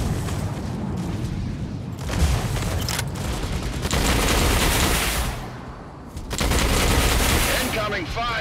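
Heavy gunfire and explosive booms from battling robots in the mech combat video game Mech Arena, dense and continuous with short lulls, loud and close throughout.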